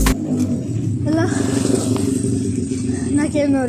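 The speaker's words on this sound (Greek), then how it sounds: "να και ένα ωραίο μηχανάκι." A motorbike passes by on a street, its engine rising and revving with a rumbling clatter heard from a bicycle ride, while a voice talks over it.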